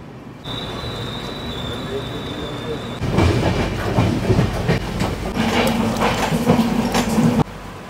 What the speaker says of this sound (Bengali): আমাদের ট্রেন এখন এসে পৌঁছলো নকশালবাড়ি স্টেশনে